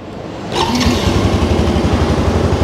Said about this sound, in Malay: Okey, enjin pun dah hidup.